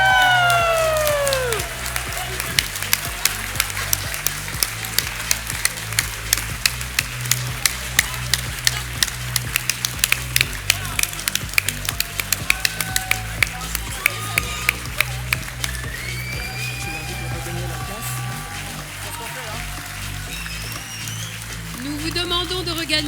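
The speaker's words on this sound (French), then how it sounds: "sous les applaudissements chaleureux de vos proches, de vos familles et de vos professeurs" A graduation ceremony for a master's degree programme, where a crowd claps steadily with scattered cheers and whoops. The sound is sustained and fairly loud, with an announcer's voice speaking over it in places.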